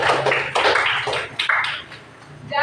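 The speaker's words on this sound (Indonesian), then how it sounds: "Oke, tepuk tangan dulu." A classroom of students claps together in short bursts of applause, the quick patter rising and falling with brief pauses, fairly close and lively.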